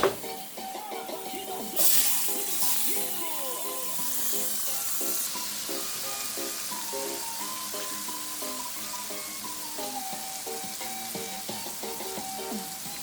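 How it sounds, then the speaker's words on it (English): Tomatoes tip into a hot pan of shrimp and cauliflower stir-fry, and a burst of loud sizzling rises and holds steady, with stirring scrapes and clinks scattered through it, no talking. "I'm going to add my tomatoes."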